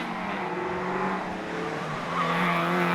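Alfa Romeo race cars at speed around Cadwell Park circuit, engines roaring loudly and continuously with tyres squealing as they brake and corner, the sound swelling toward the end.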